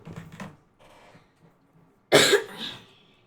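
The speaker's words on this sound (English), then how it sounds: "Coughs in Chinese." A couple of soft throat sounds lead into one sharp, loud cough from a person nearby, followed by a short fading tail.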